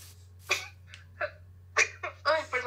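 A single sharp sneeze in a cold setting, standing out among several brief breathy vocal bursts from a person nearby, with a steady low hum running underneath.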